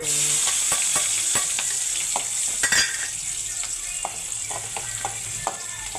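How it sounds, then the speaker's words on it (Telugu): Loud, continuous sizzling of onions and green chilies frying in hot oil, with rapid scraping and tapping as a utensil stirs the pan. "కొంచెం తాలింపు ఉల్లిపాయ పచ్చిమిర్చి పొడవ కోసిన పచ్చిమిర్చి"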